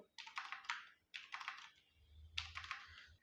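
Typing on a computer keyboard while building a table in Adobe InDesign: three quick close bursts of clattering keystrokes separated by short pauses, with no one speaking.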